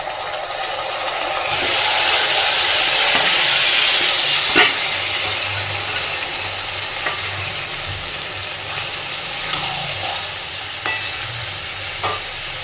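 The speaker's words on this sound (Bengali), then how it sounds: "এইবার আমি ম্যারিনেট করে রাখা চিকেনটা এর মধ্যে দিয়ে দিচ্ছি" Marinated chicken goes into a pan of deep-fried reddish onions, and a loud, steady sizzle and hiss of frying swells up and then settles, with faint scraping and stirring taps on top.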